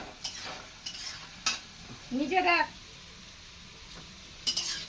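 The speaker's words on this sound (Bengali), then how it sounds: "আলু ভাজছো" Potatoes fry in a pan with a soft, continuous sizzle, broken by a few sharp stirring clinks of a utensil against the pan. A short voice sound rises briefly midway.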